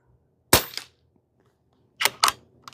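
A Pinty .22 caliber bullpup PCP air gun fires three sharp, close cracks: one shot alone, then a quick pair about a quarter second apart after a pause, with quiet between them.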